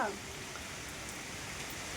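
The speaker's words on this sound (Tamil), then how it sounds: "மழை பெய்யுறது" Steady outdoor rain makes an even, broadband hiss that stays constant throughout. A voice is heard briefly at the very start.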